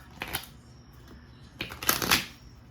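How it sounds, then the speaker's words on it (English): A deck of cards being shuffled close by, two quick riffling bursts a second or so apart, with soft handling noise between them. "That was a terrible shuffle."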